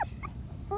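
A Patterdale Terrier puppy in an underground earth tunnel with a dirt floor gives a few short, thin whimpers and squeaks, close by, between quiet pauses.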